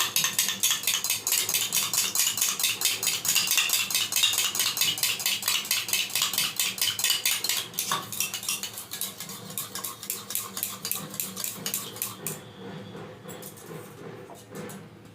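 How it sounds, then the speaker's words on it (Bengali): Eggs with a pinch of salt beaten briskly in a bowl: a fast, steady metallic clatter of utensil against the bowl that goes on throughout and eases off in the last few seconds. "এবার ফেটিয়ে নিচ্ছি।"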